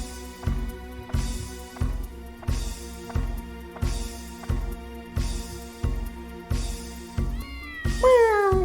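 Cartoonish cat meows from the video game Dark Cloud repeat in a steady rhythm over looping game music, roughly eight evenly spaced calls, with a rising sparkly effect at the end.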